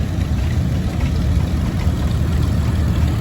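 A John Deere N tractor engine running at a tractor show: a steady, low, rumbling drone, fairly loud and unbroken, with no talking.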